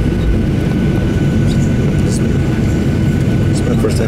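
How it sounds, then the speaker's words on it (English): A passenger airplane taking off from Portland airport (PDX), heard from inside the cabin as a steady, loud, low engine roar that continues without a break. "We're taking off now."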